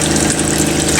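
A camper's RV water pump runs pink antifreeze through the kitchen faucet, giving a steady, loud mechanical hum and whir that holds without a break and with no voices.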